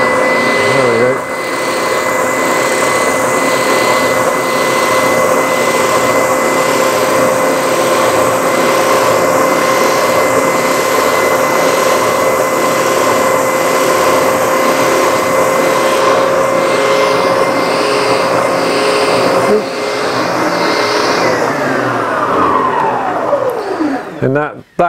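A bobbin sander works a piece of plywood with a loud, steady motor whine and grinding hum that lasts throughout, then winds down toward the end.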